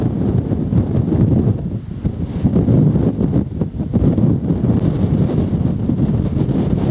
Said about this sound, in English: I hope this wind's not too bad.